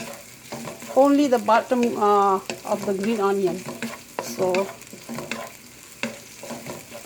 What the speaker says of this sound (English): I'm going to stir now. Stir for a while.